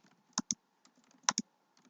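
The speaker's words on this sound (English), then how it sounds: "I usually just type in thank you" Keys on a computer keyboard are tapped in short clusters of crisp clicks, close and fairly quiet, with brief pauses between bursts of typing.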